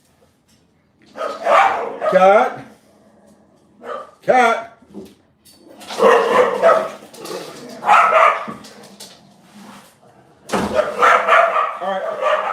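Several pet dogs bark in repeated bursts at home. The barking comes loud and close, mixed with a person talking over it, and briefly settles before starting again.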